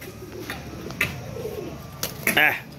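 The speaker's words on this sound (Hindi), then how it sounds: "ये ज़ाख कबूतर है, कबूतर नीला कबूतर है और ज़ाख मादी है।" A pair of blue pigeons coo softly nearby, with a few short wing flutters and sharp chirpy notes mixed in, while faint background voices and movement sit underneath.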